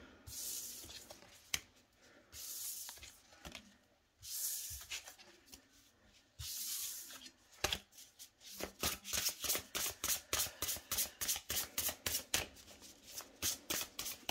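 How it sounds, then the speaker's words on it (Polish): Tarot cards shuffled by hand, close and clear with no voices: several soft riffling swishes at first, then a quick run of crisp, evenly spaced flicks as the deck is worked faster. "Słuchajcie, tasujemy karty i zapraszam panny."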